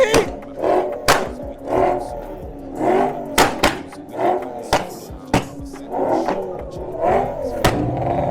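Audi RS4 at a car meet, its engine revving hard in repeated sharp bursts with loud pops and bangs, close by, with voices of people nearby in the background.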